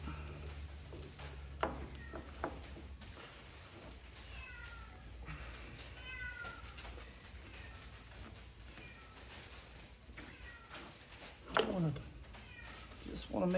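An unhappy cat meows repeatedly in a series of drawn-out, rising and falling calls, moderately close, with sharper cries near the end over a steady low background hum.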